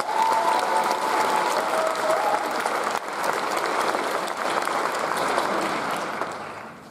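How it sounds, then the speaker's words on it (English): Sustained applause from a graduation ceremony audience for a university psychology and neuroscience department, loud and steady for about seven seconds with a brief dip midway, no talking over it. "a round of applause"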